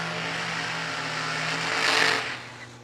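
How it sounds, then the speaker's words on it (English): A blower dragster at a drag race gives off a harsh mechanical roar that swells to a loud peak and then quickly drops away, heard alone without talk. "I had to wait for the blower dragster"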